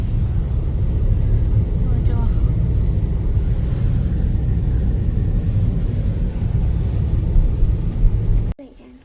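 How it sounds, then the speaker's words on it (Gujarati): A car is driven through heavy snowfall, giving a steady, loud low rumble from inside the cabin that holds for about eight seconds and then cuts off abruptly. "અહીંયા ધવલ ગાડી ચલાવસ"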